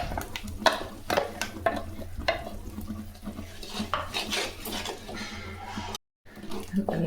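Vegetables and ground masala being sautéed in oil for hotel-style tiffin sambar, with a spoon scraping and clanking against the pot over a low sizzle and a person talking, then a brief silence near the end.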